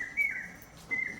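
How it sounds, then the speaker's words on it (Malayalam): Bird chirps twice, thin whistling tweets heard close and fairly quiet, with a short pause between them. "കിളി പറഞ്ഞു കേട്ടോ."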